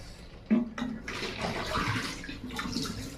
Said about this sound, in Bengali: বোতলগুলো ধুয়ে নিচ্ছি।